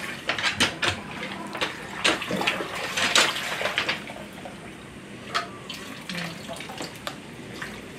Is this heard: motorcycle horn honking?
no